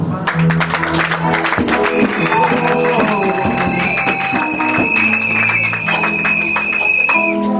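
An audience at a church gathering applauds and cheers, a steady wash of clapping and crowd noise sitting under music with a sustained tone, continuous throughout and fairly close.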